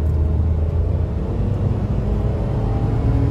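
Continuous low road rumble from a car driving along, heard from inside as a steady, fairly loud drone with no talking.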